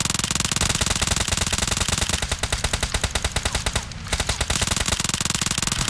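Rapid automatic gunfire in the battle royale game PUBG Mobile, a loud, close, sustained stream of evenly spaced shots with a brief pause before the firing resumes.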